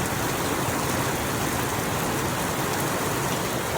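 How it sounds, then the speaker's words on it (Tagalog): Rain falls steadily during a car drive, a dense and even hiss of drops with no breaks and no talking. "Sana tumila yung ulan pagdating ko ng Neapolitan."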